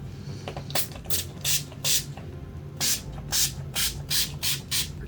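Short hissing bursts of a Wet n Wild makeup setting spray bottle, about a dozen quick pumps in uneven clusters, close up over a quiet room.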